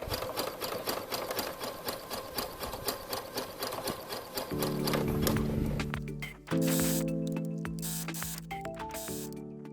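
A sewing machine stitches a knit neckband with a fast rhythmic mechanical whir and clatter, close up, briefly changing pitch with steady motor tones and short pauses, with no talking.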